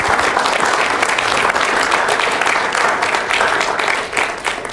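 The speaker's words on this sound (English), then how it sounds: "Let's give Connor a round of applause." Loud, sustained applause from a town hall audience in Hanover, New Hampshire, a dense wash of many hands clapping at once that holds steady for several seconds before starting to thin at the end.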